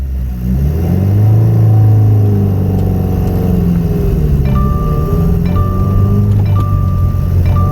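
A 2017 Subaru WRX engine rises and falls in loud, close revs under load, a rumbling mid-pitched drone with gear-like shifts, joined later by repeated short electronic beeps.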